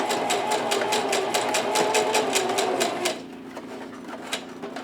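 A sewing machine back-stitches wire onto a fabric mask's seam allowance, its needle pounding in a fast, even rhythm for about three seconds before stopping and leaving a quiet motor whir; no one speaks.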